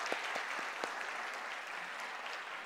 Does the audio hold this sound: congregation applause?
yes